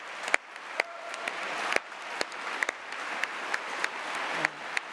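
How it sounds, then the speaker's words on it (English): An audience claps at a talk about young people who grew up in care, a warm rippling applause that stays steady throughout with a few sharp individual claps standing out close by. "Give them a big round of applause"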